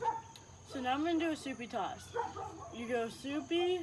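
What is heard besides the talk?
neighbor's dog barking outside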